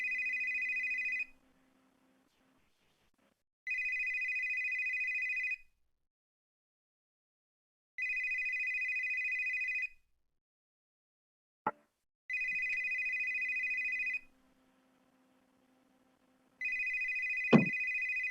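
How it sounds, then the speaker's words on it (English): A telephone rings in repeated electronic bursts, each about two seconds long, with silent gaps between them, plus a couple of sharp knocks near the end. "Are you going to answer the phone?"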